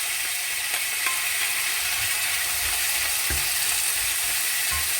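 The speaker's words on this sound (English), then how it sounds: "If it's sizzling a lot, just reduce the heat a little bit more." Steady sizzling and crackling of mushrooms, peppers, tomatoes and red chili stir-frying in garlic butter in a hot pan, with occasional clinks and scrapes of stirring, no voices.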